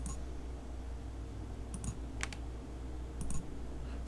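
Typing a value on a computer keyboard while working in SolidWorks, two quick clusters of light clicks over a faint steady room hum, close and quiet, with no talking.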